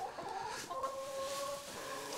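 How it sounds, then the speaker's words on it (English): Chickens cluck softly in a barn on a farm, a few quiet, drawn-out calls at a moderate distance over low background noise. "Watch out, chickens."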